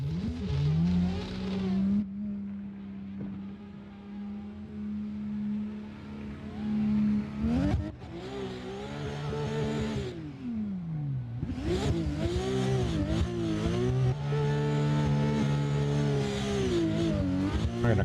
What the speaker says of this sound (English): We're in a custom BMW out there on the track tonight.